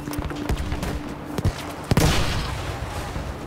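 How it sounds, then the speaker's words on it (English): A grenade goes off in Battlefield V amid scattered gunfire, a few sharp cracks followed by a heavier burst and a lingering rumble around the two-second mark, moderately loud with battlefield ambience. "I'll just chuck a grenade at it"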